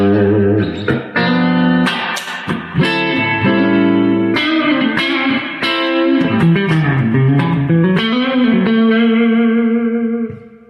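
An electric guitar plays sustained chords and bending notes through a Quilter Aviator Cub amplifier with reverb near maximum, drenched in reverb with a slight distorted edge, loud and up close.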